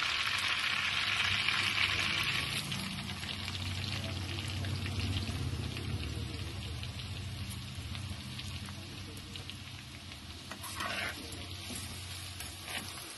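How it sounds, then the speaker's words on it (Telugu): Onion pieces fry in hot oil and melted butter in a kadai for mutton keema rara, a steady close sizzle running throughout with occasional stirring scrapes and no talk. "ఈ ఆనియన్ పీసెస్ వేసిన తర్వాత ఈ ఆనియన్ ఏంటంటే బాగా ఫ్రై అవ్వాలి, గోల్డెన్ కలర్లో రావాలి"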